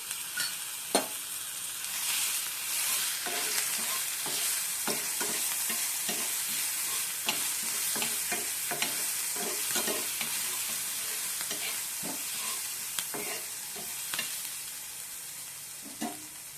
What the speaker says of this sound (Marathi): आता तव्यामध्ये मी थोडंसं ऑइल घालते आणि याच्यामध्ये ॲड करायची आपल्याला हिरवी मिरची